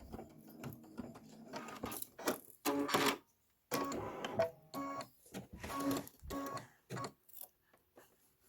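A Kimberbell embroidery machine stitches a small candy corn block, its rapid mechanical chatter coming in bursts with short pauses as it stops between stitching and trimming passes, close and fairly loud.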